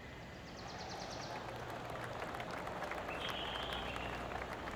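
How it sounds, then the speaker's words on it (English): Golf gallery in PGA TOUR 2K25 breaking into sustained applause and cheering around the course, a steady wash of clapping that swells after the first second and holds throughout. "Roars going up around the golf course."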